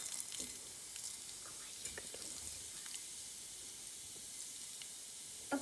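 Chopped okra (bhindi) sizzling in a pan in a home kitchen, a faint, steady hiss with occasional soft crackles and small clinks, no talking over it.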